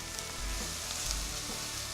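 Onion frying until golden in a pan with herbs and spices, a dense steady sizzle and crackle with soft pops, close and even throughout with no talking.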